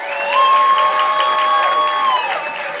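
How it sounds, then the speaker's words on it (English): A crowd at a Moth storytelling event claps and cheers loudly, with whistles and shouts rising over steady applause throughout. "Start clapping for NestorGomez right now"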